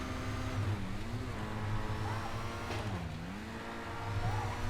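The S80RR supercar in GTA 5 races around a track, its engine revving up and down with continuous, wavering pitch as it takes corners at speed, loud and close throughout.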